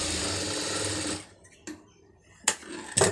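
A sewing machine stitches a blouse sleeve seam in fabric, running loud and steady for about a second before stopping; a few brief handling knocks and taps follow in the quiet.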